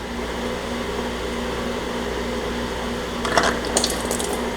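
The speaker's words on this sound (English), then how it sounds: "Again, you are going to spill a little bit of fuel." Fuel trickles from a pinched-off line on a Kubota compact tractor into a drain pan, a steady wet hiss under a low mechanical hum, with a few brief splashy bursts near the end.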